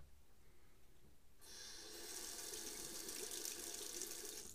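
Tap water runs steadily from a faucet to rinse a disposable razor, starting abruptly after a quiet moment and continuing as a close, even splashing stream.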